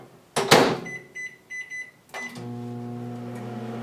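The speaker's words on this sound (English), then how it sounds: "Simply going in the microwave for 12 minutes." A door clunks shut and a few short beeps sound, then a microwave oven cooking a rice and water mix starts up with a steady, low hum.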